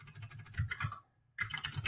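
A terminal command is tapped out on a computer keyboard in quick, close bursts of keystrokes, broken by a short pause partway through.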